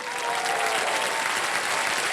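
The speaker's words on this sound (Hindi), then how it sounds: "ताली बज जाए।" A studio audience on the quiz show Kaun Banega Crorepati breaks into dense, steady applause that holds at full strength for a couple of seconds.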